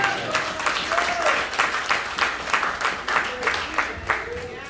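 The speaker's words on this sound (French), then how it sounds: "On applaudit le Seigneur." Congregation at a church service applauding for the Lord, a steady wash of many hands clapping with rhythmic surges, while a voice speaks or calls out over the clapping throughout.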